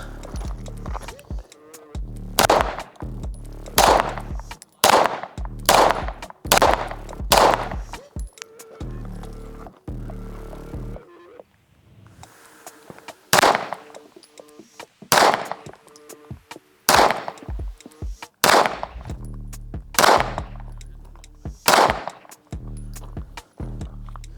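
Shots from a Cardinal Arms G2P ported 2011 pistol ring out loud and close in quick strings of sharp cracks, with short pauses between volleys.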